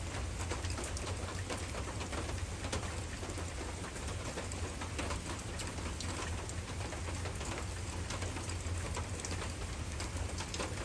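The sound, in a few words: rain falling outside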